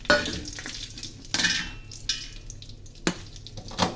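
Dried red chillies roast in a pan, with quiet frying under a few distinct scrapes and clatters of a spoon stirring against the metal.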